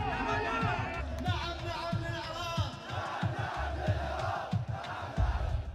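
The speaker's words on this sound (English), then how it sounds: "Anti-Israel hate chants can be heard from crowds in the Middle East." Crowd chanting in unison at a pro-Palestine demonstration in the Middle East, loud massed voices repeating a rhythmic slogan over steady background crowd noise, sustained throughout.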